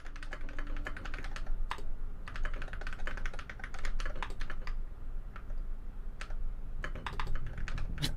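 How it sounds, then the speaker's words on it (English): Rapid typing clatters on a stock computer keyboard, a fast, irregular burst of crisp key clicks heard up close with no voices. "One thing I will say, I wonder what keyboard he uses. It sounds stock."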